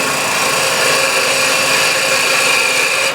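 A wood gouge cutting shavings from a spinning workpiece on a lathe, a loud continuous hissing, scraping cut that holds steady throughout, with no talking.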